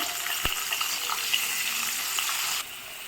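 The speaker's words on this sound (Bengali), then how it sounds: "আলুটা ভাজি ভেজে নিই ভালো করে লাল লাল করে" Potatoes tossed with a little turmeric fry in hot oil, a steady broadband sizzle with light crackles that holds evenly, then drops slightly quieter near the end.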